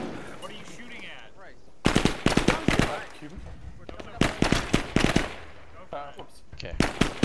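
Gunfire in a military shooter game: bursts of automatic weapon fire and single shots crack out in irregular clusters, loud and close, with a voice talking in between.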